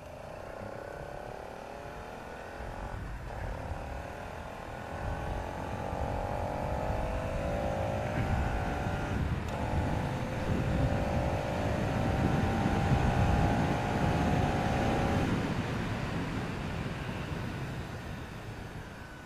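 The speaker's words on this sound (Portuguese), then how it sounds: "Eu vou deixar vocês escutar o barulho dela aí do motor" A Bajaj Dominar 200 motorcycle engine hums steadily while riding, its tone rising and sliding in pitch as speed shifts, with wind rush underneath.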